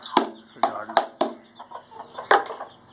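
Chickens and young chicks cluck and peck while eating grain scattered for them, with sharp close pecks and short clucks in an irregular rhythm and soft peeping between.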